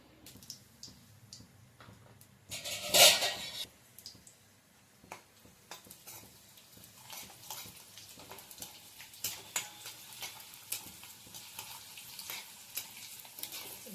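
Oil sizzles and crackles in a pan, with a loud hissing burst early on as dried red chillies, garlic and tempering seeds hit the oil, then settling into steady spitting and popping.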